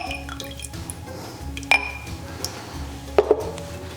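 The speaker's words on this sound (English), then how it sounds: "And then the bitters, cognac, and crushed sugar cube you'll now add to the rinsed absinthe glass." Bitters, cognac and a crushed sugar cube added to an absinthe-rinsed glass for a Sazerac, with soft liquid drips and a few sharp glass clinks against quiet background.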